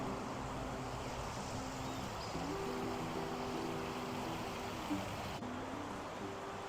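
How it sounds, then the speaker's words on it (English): Soft, steady rush of a small waterfall on the Reedy River at Falls Park in Greenville, an even wash of falling water with faint low tones underneath and no voices. "Nice little waterfall."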